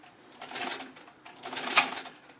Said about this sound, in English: just heard the sewing machine go there